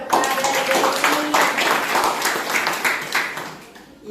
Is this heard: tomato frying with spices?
no